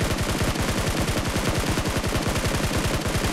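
Rapid automatic gunfire in PUBG Mobile, a steady machine-gun burst of evenly spaced loud shots running for several seconds without pause, close and dominant.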